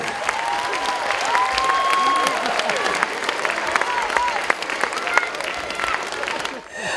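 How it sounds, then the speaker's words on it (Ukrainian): A children's talent show audience applauding performers, dense sustained clapping from a large crowd with scattered whistles and cheers, loud and continuous, fading slightly near the end. "приважайте, будь ласка, їх оплесками."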